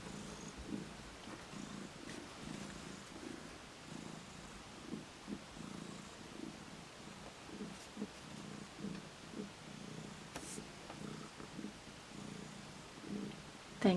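A cat purrs steadily and softly up close, a low continuous rumbling pulse running throughout with faint room noise behind it.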